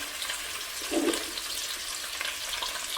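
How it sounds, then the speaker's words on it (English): Onion dropped into a hot soup pot and starting to fry: a brief soft thump and whoosh near the start, then an even, steady sizzle for a few seconds, close by and alone. "So we're going to add this onion in right now."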